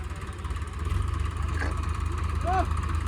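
An Eicher 557 tractor stuck in mud, its engine labouring in a steady, loud low drone, with voices talking over it nearby.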